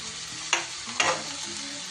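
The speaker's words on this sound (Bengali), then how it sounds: "এবার আমি দিয়ে দিচ্ছি ভেজে রাখা সবজিগুলো।" Fried vegetables for nim jhol going into spice paste in a pan, with an even hiss of frying and two quick scraping stirs close by, no voices.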